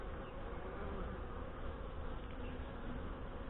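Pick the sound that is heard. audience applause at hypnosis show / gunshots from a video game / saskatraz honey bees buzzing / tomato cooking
saskatraz honey bees buzzing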